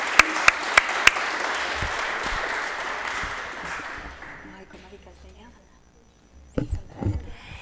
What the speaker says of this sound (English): You're allowed to scream and shout and clap more